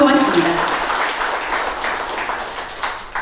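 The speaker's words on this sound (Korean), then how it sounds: "이 자리에 계시진 않지만 감사의 박수 한번 부탁드리도록 하겠습니다" Audience applause of thanks at the founding general assembly of the Ulsan lifelong educators' association, a burst of clapping in a hall that carries on steadily and fades somewhat over a few seconds.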